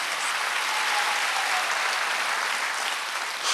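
A congregation applauds during a Wednesday church service, a dense, steady wash of clapping that stays loud and even throughout with no voices rising above it.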